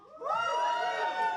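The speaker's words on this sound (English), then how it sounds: "Give me a cheer if you've been to Vauxhall Comedy Club before" Comedy club audience at Vauxhall Comedy Club cheering together, a sustained burst of whoops and shouts that swells after a brief quiet start and holds loud for over a second.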